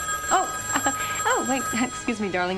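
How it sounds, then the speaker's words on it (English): A telephone bell rings steadily in the background while someone speaks over it, the ringing partly masked by her voice. "that's the phone."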